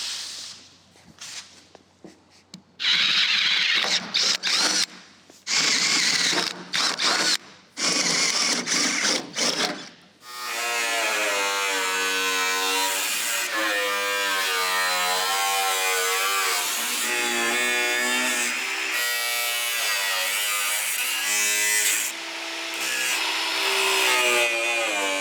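A power tool cuts out the quarter panel of a classic Camaro being built as a road-course car, starting in stuttering bursts and then settling into a long, loud, continuous whine that wavers in pitch as it bites into the metal.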